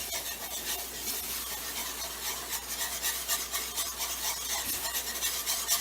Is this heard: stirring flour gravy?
yes